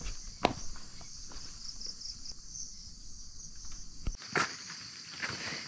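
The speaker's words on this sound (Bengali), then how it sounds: "এই ঝিঝি পোকার ডাকগুলা দিনের বেলা একরকম লাগে," Daytime crickets at a cloudy hill station in Mirinja Valley, Lama, keep up a steady, high, continuous chirring close by, with a few soft footsteps and taps beneath and no talking.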